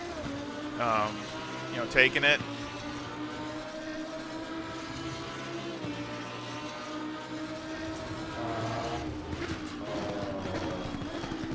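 A Lamborghini Huracan EVO GT3 race car laps Imola in the Assetto Corsa Competizione game, its engine droning with rising and falling pitch through gear shifts while someone talks over it.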